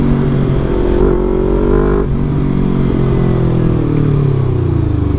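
A Yamaha MT25 motorcycle engine revs and pulls hard during a test ride, loud and close, its pitch climbing, dipping at a gear change and climbing again.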